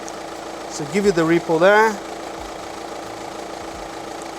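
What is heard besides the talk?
12V car engine started and idling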